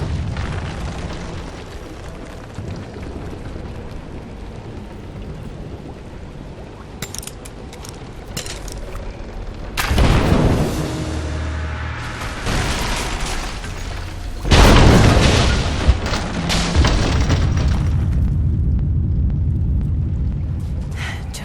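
Quick fire arrows in Rise of the Tomb Raider set off two loud, close explosions against an unstable statue, each followed by crumbling debris and rumble, with quieter ambience before.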